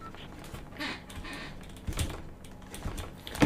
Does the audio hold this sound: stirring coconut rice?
no